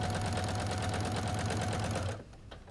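A sewing machine stitches binding onto a quilt at about a 3.0 stitch length, a close, rapid mechanical chatter with a steady rhythmic hum that stops just before the end.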